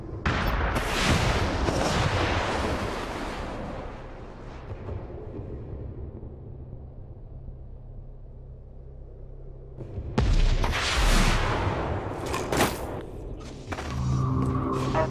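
A null cannon fires in the video game Dust 514, giving a long, heavy rumbling blast that fades away. Fresh booming impacts and gunfire-like thuds follow near the end, all loud and close.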